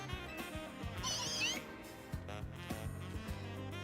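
Meowth, the Scratch Cat Pokémon, meows in the video game Pokémon Legends: Z-A. Several short, close meow calls sound over light game music, with one higher drawn-out cry in the middle.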